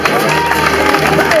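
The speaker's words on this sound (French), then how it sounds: "C'est à vous, applaudissez-le." An outdoor civic inauguration crowd in Béziers breaks into applause and cheering for a one-man band performer, a dense wash of clapping and voices filling the short moment throughout.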